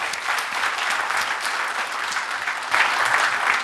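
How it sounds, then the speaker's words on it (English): An audience at a forum with India's young CEOs claps in a steady, dense round of applause that swells slightly louder near the end. "Let's have a round of applause for sir."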